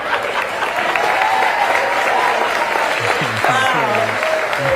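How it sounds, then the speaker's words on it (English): A live political event audience claps and cheers in sustained applause, loud and steady, while a voice speaks over it toward the end. "Can you believe that's an applause line?"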